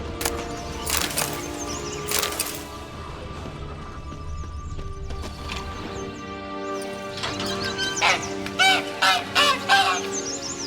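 A caged golden-egg-laying bird in Witcher 3 Blood and Wine honks repeatedly and loudly up close, goose-like calls in bursts, clustered heavily toward the end amid light clatter.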